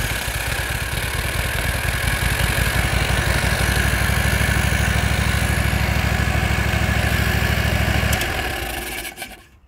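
A running engine idles steadily with its oil filler cap removed, pushing out excessive crankcase pressure; a loud, even low rumble holds for about eight seconds, then cuts off and fades.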